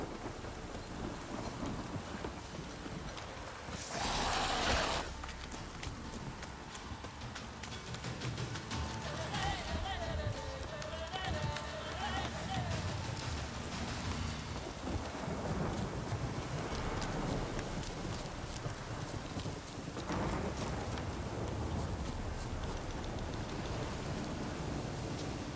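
Rain hisses steadily over a medieval game world while thunder cracks and rolls through, one sharp loud clap early and further rumbles later, the downpour continuing unbroken beneath for the whole stretch.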